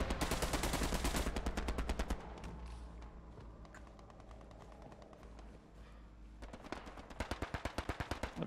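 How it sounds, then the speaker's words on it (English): Tank and rapid gunfire in the Hell Let Loose war game: bursts of loud machine-gun fire, then a lull of distant rumbling and scattered shots, then another rapid volley at the close. "That's a tank. Doing a lot of shooting."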